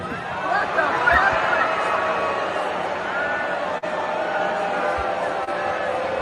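Concert crowd in Toronto at a show booing, a dense sustained roar of many voices, steady and fairly loud throughout with faint shouts rising above it.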